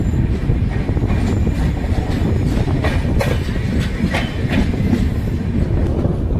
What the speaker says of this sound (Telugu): సిగ్నల్ పడగానే అదే స్పీడ్లో డీపార్చ్ కూడా చేసేసాడు ట్రైన్ని.